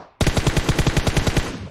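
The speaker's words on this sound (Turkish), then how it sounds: "Alt tarafımızda var hemen bir çatışma." A rapid burst of close, loud machine gun fire in a firefight in PUBG Mobile, the evenly spaced shots starting abruptly and continuing throughout.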